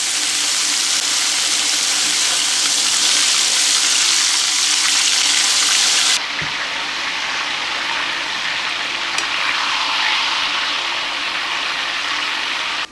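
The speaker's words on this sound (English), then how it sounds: "Now I'm gonna go ahead and fry this in the same oil I fried the plantain." A jibarito filling fries in the same hot oil used earlier for plantain, a steady broadband sizzle that runs loud and unbroken, easing slightly softer after about six seconds and continuing alone to the end.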